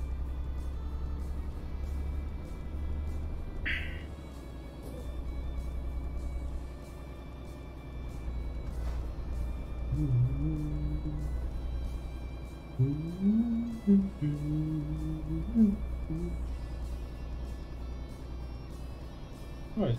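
An upgraded truck engine in Euro Truck Simulator 2 hums as a steady, low, continuous drone while driving, and someone talks over it partway through.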